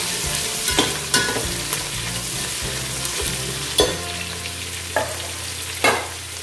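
Onion pieces and green chillies fry in a hot pan with a steady close sizzle, broken by a few sharp clinks and scrapes of stirring; no voices.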